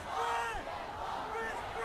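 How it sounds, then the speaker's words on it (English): Huge crowds of protesters in Chinese cities and universities, demonstrating against strict Covid curbs, massed voices chanting and shouting together in a loud, sustained roar. "So you can see there the huge crowds in different cities, at universities, all holding blank paper as signs of their protest."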